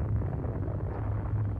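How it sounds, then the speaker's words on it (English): A huge explosion in the video game Xenogears, a sustained deep rumbling roar that fills the moment with steady low-end power and no distinct onset, like the tail of a large blast. "That's a big-ass explosion."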